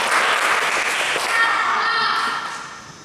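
An audience in a youth church service claps together in a clapping game, a dense burst of many hands that fills the room and then tapers off toward the end.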